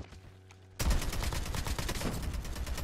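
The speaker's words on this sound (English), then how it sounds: "Here, I'm tossing cluster nades over there." Cluster grenades burst in COD Mobile gameplay after a quiet lead-in: a sudden loud barrage of rapid overlapping blasts and gunfire-like cracks that keeps rolling dense and close to the end.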